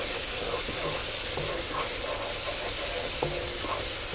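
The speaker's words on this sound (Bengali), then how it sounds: "এটা মাংসটা আমি পানি না দিয়ে মশলার মধ্যে দিয়ে দেবো" Meat frying in spices without any water, with a steady sizzle and hiss and a few soft stirring clicks from close by, alone with no talking.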